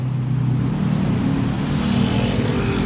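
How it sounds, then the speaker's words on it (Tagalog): Dense road traffic on EDSA near an underpass in Metro Manila, a steady broadband rumble of engines with low idling and revving vehicles close by, continuous and loud with no voices. "Yung etong napapansin nyo pong traffic, papunta po yan sa underpass naman po"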